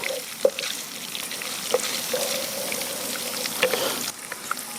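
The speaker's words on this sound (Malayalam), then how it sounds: "ചെറിയ രീതിയിലൊരു തേങ്ങ ഒന്ന് ജസ്റ്റ് ഒന്ന് മൂത്ത് വരണം" Grated coconut roasting in a pan for village-style chicken perattu, giving a soft, even crackle with a few light clinks of a spatula against the pan.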